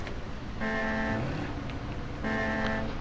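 A big central pivot truck in SnowRunner blares two long, loud horn-like tonal blasts over a steady engine and road rumble.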